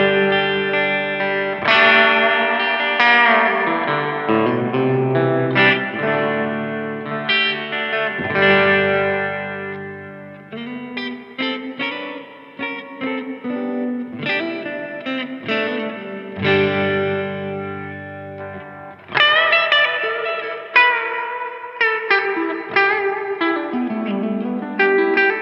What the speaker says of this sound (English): this is a very tweakable reverb